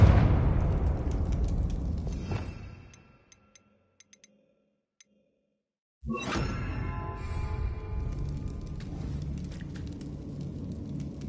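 A Confringo spell explosion from Hogwarts Legacy booms loudly and fades over a few seconds into near silence with a few faint ticks, then a second sharp blast bursts in and rumbles on with crackling debris.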